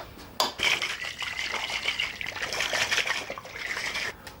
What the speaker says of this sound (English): we're going to give this a good shake